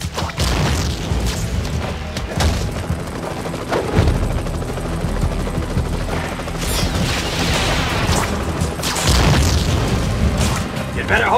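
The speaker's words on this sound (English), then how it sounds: "Bombs away, pest!" Bomb explosions in a Spider-Man 3 video game boss fight: loud, booming blasts come one after another over constant battle noise, and voices speak over the din.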